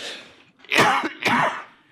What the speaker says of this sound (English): All 3 of us now have a mild cough